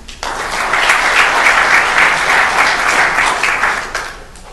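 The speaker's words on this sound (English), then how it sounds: "Let's all give them a round of applause and their parents as well" A city council meeting audience applauding students and their parents, dense sustained clapping that swells quickly, holds steady for several seconds, then tapers off.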